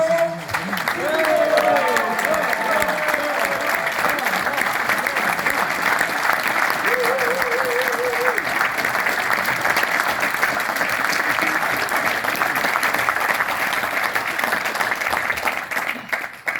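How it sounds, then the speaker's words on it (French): Sustained applause from an audience at a political meeting in Saint-Germain-en-Laye, greeting Florian Philippot. Dense, steady clapping fills the whole stretch, with a few faint voices and whistles rising over the crowd. "Applaudissements pour Florian."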